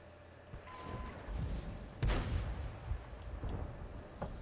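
Tank cannon fire in a World War II tank video game, one heavy boom with a thumping tail amid low rumbling battle noise and a few fainter distant shots.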